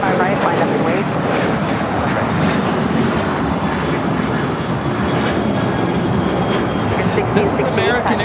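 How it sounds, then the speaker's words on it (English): An American Airlines Boeing 737-800 jet roars as it takes off at Los Angeles airport, a loud, steady, broadband engine rumble that holds for the whole stretch. "This is American Airlines 1668 taking off to Phoenix on a 737-800."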